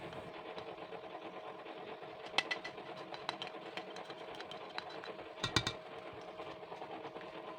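An electric hand mixer whirs steadily through cookie dough with grated cheese, a continuous motor drone with a few sharp clicks and knocks against the bowl.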